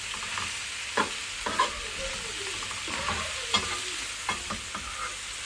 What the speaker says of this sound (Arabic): بعد كده ننزل عليه البصل والفلفل.